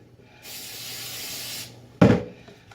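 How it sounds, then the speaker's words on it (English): A hand-held spray bottle mists onto hands in one long hissing burst lasting about a second, followed after a pause by a sharp, louder rubbing rustle and faint handling noises. "I'm going to spray my hands real quick."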